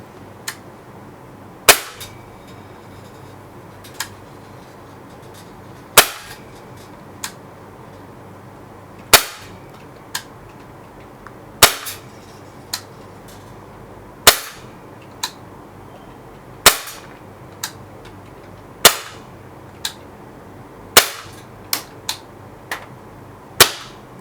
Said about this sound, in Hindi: सो पहले जो है हम सारे के सारे BBs फायर करेंगे।